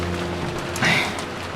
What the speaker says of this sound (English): it certainly was a windy rain